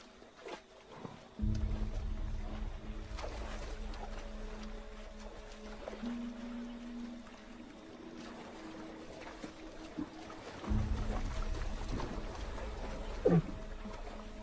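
A tense wild lion gives a low, rumbling growl that swells and holds over several seconds, close and fairly loud, with a few sharper bursts near the end.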